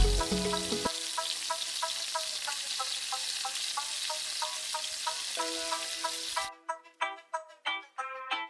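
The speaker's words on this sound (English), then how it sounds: "Place them into a non-stick pan with 4 to 5 tablespoon oil and let them cook until they turn golden brown from the edges." Burger patties fry in oil in a non-stick pan, giving a steady close sizzle with a light rhythmic ticking. The sizzle gives way near the end to a few sharp, separate clinks.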